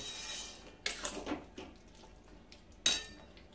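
A lid is set on a cooking pot of dudh shukto on a gas stove, giving a quiet clatter and scrape of metal, then a sharper clink a moment later, with soft kitchen rustle between.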